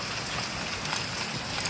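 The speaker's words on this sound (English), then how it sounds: "by the way, it's raining." Steady rain falls outdoors, a dense, even hiss of drops on surfaces that holds at the same level throughout, with no voices over it.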